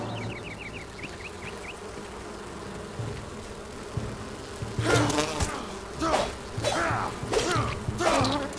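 Bees swarming in the survival game Enshrouded give a soft insect buzz at first, then several louder, sharp bursts that swell and fade in quick succession.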